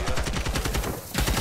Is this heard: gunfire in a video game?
yes